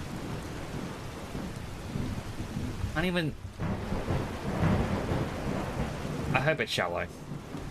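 A thunderstorm in the video game Skyrim rumbles in low rolling thunder over steady rain. A person talks over it at times.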